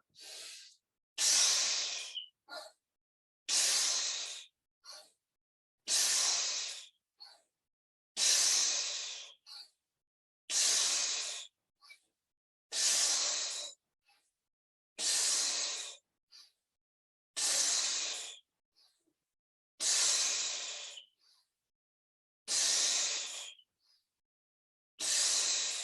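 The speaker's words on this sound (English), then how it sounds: "Breathing it all out, resting, observing and feeling inside yourself." Deep exhalations during a breathwork exercise, about a dozen long, forceful breaths pushed out at a steady rhythm with short pauses between, close and clear with no talking.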